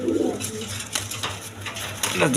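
Pigeons for sale cooing at a Bangladeshi pigeon market, soft repeated low coos close by, mixed with faint clinking and background chatter.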